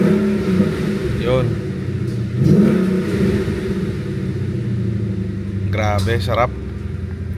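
A car engine revved on a cold start with exhaust pops, a steady low rumble under close talk, with a couple of sharp bursts near the end as the throttle is blipped.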